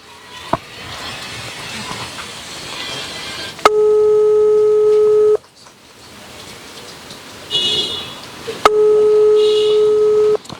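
A telephone gives two long, loud electronic ring tones, each lasting about two seconds and separated by a pause, over a background of rain-like hiss.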